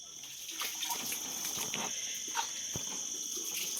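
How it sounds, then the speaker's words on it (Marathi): Tap water runs steadily and splashes as banana leaves are rinsed on both sides, with soft knocks and rustles of the leaves under the flow. "आपण केळीचं पानसुद्धा ना मित्रांनो दोन्ही साईडने एकदम प्रॉपर आपला पाण्याने स्वच्छ धुवून घेतो आहे"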